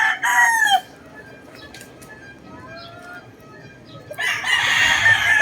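A rooster crows loudly nearby, a long harmonic call at the start, then quiet rustling with faint bird calls before another loud crow begins near the end.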